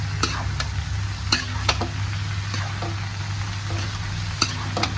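Jackfruit simmering in coconut milk is stirred in a pot, a steady bubbling sizzle under a low hum, with sharp utensil knocks against the pot at irregular intervals.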